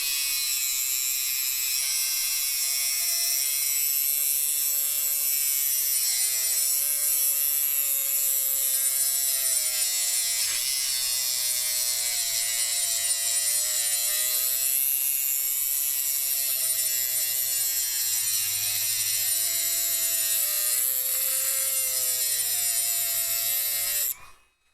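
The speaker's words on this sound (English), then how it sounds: "Whole Dremel's gonna heat up." A Dremel rotary tool runs continuously at high speed with a steady whine and buzz, close and loud throughout, strained by torque while working on pedals and cutting off abruptly at the end.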